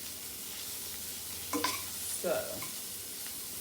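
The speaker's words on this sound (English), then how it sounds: "and then you just saute it in a pan like this" Organic onions sautéing in a pan: a low, steady sizzle with a couple of brief scraping stirs partway through, close and fairly quiet.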